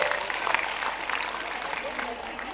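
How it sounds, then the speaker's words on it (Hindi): A crowd at a school celebration for top-scoring board exam students claps loudly, with a dense, sustained wash of applause that fades slightly toward the end. "ताली बजाएंगे जोरदार"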